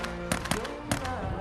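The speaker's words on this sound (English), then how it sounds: "She hears gunshots" A rapid volley of sharp gunshots cracks out in close succession, roughly five bangs within a second and a half, over a tense background.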